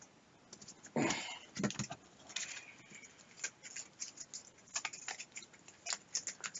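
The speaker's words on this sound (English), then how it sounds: "And now we just need to shuffle all 3 of these." Playing cards from a Pathfinder Adventure Card Game deck are shuffled close by, a quiet run of irregular light taps, flicks and riffles.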